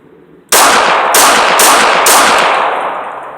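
Handgun shots during defensive shooting practice: one sharp loud report followed by three more in quick succession, each ringing out with a long decaying echo, no voices.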